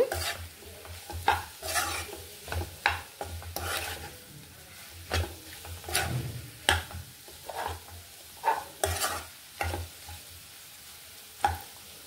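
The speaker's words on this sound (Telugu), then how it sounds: "అంతా కలిపేసుకోవాలి." Egg potato curry with spices is stirred in a pan, a series of distinct scraping strokes of a spoon against the metal at an irregular rhythm over a low sizzle, close and clear with no voices.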